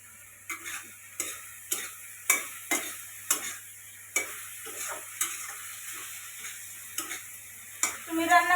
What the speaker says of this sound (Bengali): এই যে ঢেঁড়স ভাজি হয়ে গেল